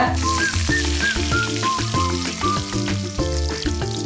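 Garlic cloves, dried red chillies and chopped coconut fry in hot oil for coriander chutney, a steady close sizzle running throughout beneath background music.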